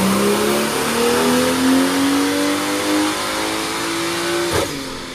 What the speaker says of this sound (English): that turbo sounds amazing